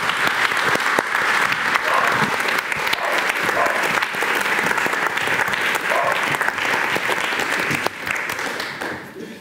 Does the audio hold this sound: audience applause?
yes